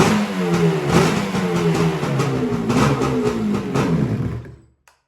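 A jet ski engine, fuel poured into its carburetors, runs up close with a loud, uneven two-stroke rasp and rising and falling revs for several seconds before cutting off abruptly.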